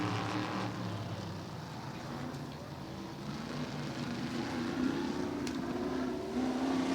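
Vintage oval-track race cars of the Western Racing Association run at Santa Maria Speedway, a steady distant engine roar with rising and falling pitch as cars circle, no talk over it.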